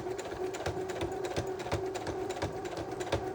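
A sewing machine back stitching vinyl at a stitch length of 3.5: a steady, rapid mechanical chatter of the needle, close and continuous with an even humming drone underneath.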